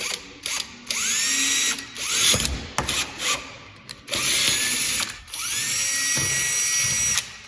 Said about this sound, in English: I hate drilling holes in a roof cap.